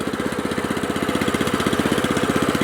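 A walk-behind tractor engine runs in first gear on asphalt, a close, steady, rapidly pulsing single-cylinder chug with an even rhythm and no talk.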